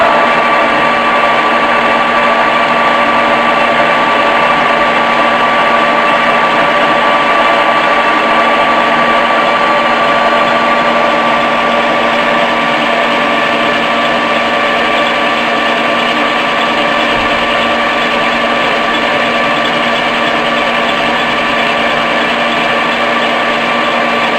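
A metal lathe runs steadily through a facing cut with the spindle turning downward, giving a loud, continuous whirring drone with constant tonal hum and no pauses.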